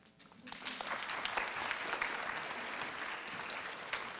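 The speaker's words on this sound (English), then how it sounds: "Let's give them all a round of applause" Audience applause fills a school auditorium after fifth-grade students finish a poetry recitation at a district literacy competition, with steady clapping that rises quickly and holds dense and even to the end.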